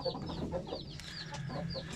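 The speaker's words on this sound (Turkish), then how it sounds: "Dev horozum benim." A rooster calls with a few short clucking, crowing-like bursts among the farm's fowl, fairly close and clear, with no talk over it.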